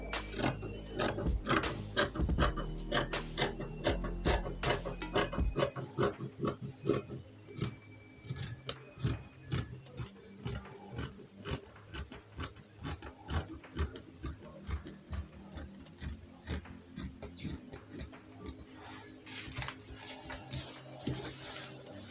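Scissors snip through fabric for a short flare gown in a steady run of sharp, close cuts, dense and loud at first, then spaced into a regular clicking rhythm with no talking.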